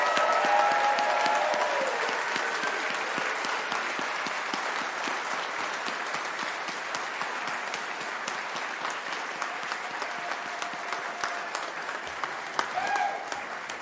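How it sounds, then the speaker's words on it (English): A large audience at a university health faculty convocation ceremony applauds its graduates in a long, steady round of clapping that carries on for the whole stretch and tapers only slightly. "one more round of applause for all of our graduates today."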